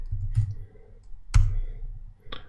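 A few sharp keyboard clicks land sparsely, close and crisp, with a soft low thump between them, as a git clone command is typed and entered.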